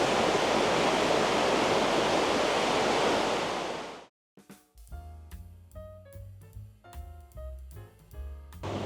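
A river rushes right below an open-air hot spring bath at Aizu Higashiyama Onsen in Fukushima, a loud, steady broadband roar that cuts off abruptly about halfway through, replaced by background music.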